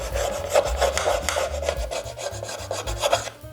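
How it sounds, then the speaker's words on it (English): Rhythmic rasping strokes of sanding against a piece, quick back-and-forth scrapes repeating steadily, close and fairly loud. "We're knocking off the little chips and we are sanding the side."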